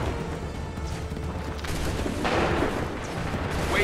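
A musket volley in the video game Assassin's Creed III, a dense rumbling burst of many overlapping shots swelling into a loud sustained crackle over steady battlefield noise.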